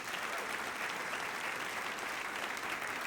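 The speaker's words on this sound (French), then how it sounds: "Est-ce qu'on peut les applaudir bien fort, s'il vous plaît?" A lecture audience gives steady, sustained applause, a dense wash of many hands clapping throughout with no clear voices.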